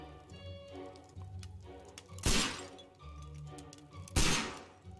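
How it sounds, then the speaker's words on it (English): Two loud, sharp gunshots ring out about two seconds apart in a Sherlock Holmes detective game, each standing out against quieter background ambience and soft game sounds. "the gunshots are loud as they should be"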